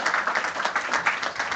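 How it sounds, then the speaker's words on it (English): An audience at an Abu Dhabi panel event claps steadily, a dense, even wash of applause from a crowd in a hall, moderately loud and continuous, with no speech over it. "can you give another big round of applause for my friends here?"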